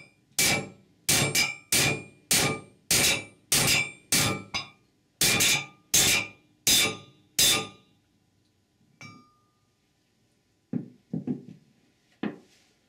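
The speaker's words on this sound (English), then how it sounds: "Drive it in with a large valve, socket, or bushing driver and hammer." Hammer blows drive a bushing into a Ford E4OD / 4R100 transmission pump with a driver: about eleven loud, evenly spaced metallic strikes close by, followed by a pause and a few softer clinks and knocks.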